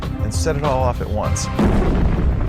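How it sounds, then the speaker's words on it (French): A deep explosion effect represents eruptions on the Sun, arriving as a rumbling boom that follows a narrator's voice and builds into broadband roaring. "Ce sont des explosions qui n'ont rien d'anodin."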